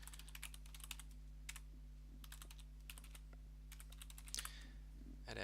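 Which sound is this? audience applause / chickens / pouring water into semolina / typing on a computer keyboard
typing on a computer keyboard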